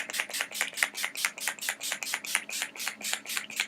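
Setting spray is sprayed onto a face as a rapid run of many short hissing spritzes, close and fairly loud, with no talking.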